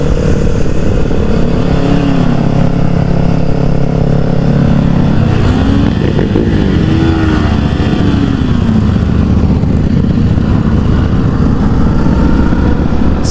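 A Kawasaki Ninja 400 motorcycle engine drones loudly and continuously during a group ride on the Beiyi mountain road in Taiwan, its pitch rising and falling as the rider works the throttle through the bends.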